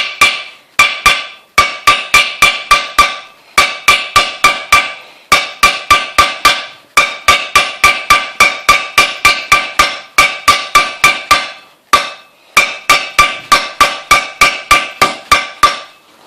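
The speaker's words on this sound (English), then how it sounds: "I'm just going to try and tap it in manually with the hammer" Hammer taps a bearing into a pit bike swing arm in loud, sharp metallic strikes. They come in rapid bursts of about five to eight, with short pauses between the bursts, and go on steadily for the whole stretch.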